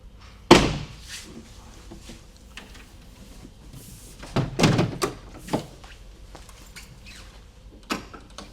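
The rear door of a 2025 Opus OP13 camper trailer swings shut with a loud, close slam, followed by softer thuds and clunks of latching and handling a few seconds later, with no talking.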